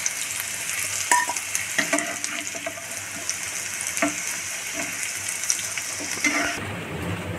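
Bitter gourd and potato fry in a pan with a constant close sizzle, punctuated by intermittent stirring scrapes and clinks against the metal.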